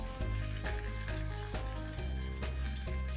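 Finely chopped green chillies frying in hot oil as the base of an egg gravy, a loud continuous sizzle with steady crackling throughout.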